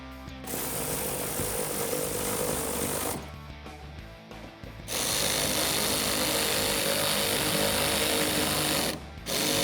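A power tool drives provided 8mm screws into the top factory fender mounting points of a 2016-2021 Tacoma while installing molded fender flares, whirring in two long loud bursts with brief pauses between, close up.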